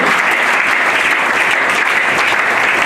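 An audience at the official launch of the NGO Action Plus claps loudly and steadily, a dense, close burst of applause that fills the whole moment.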